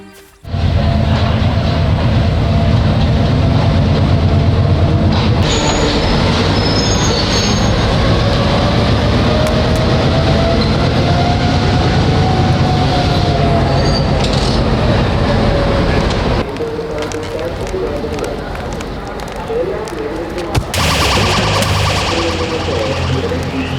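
A train rolls past close by, a loud sustained rumble of wagons with squealing wheels and a rising and falling tone, easing off near the end before a brief burst of noise returns.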